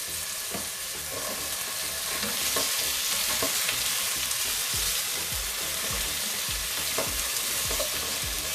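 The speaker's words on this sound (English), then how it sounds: "You can even add potatoes to it while you're frying with the onions" Onions, with potatoes, sizzle and crackle loudly in a hot pan, with scattered clinks and scrapes of stirring throughout.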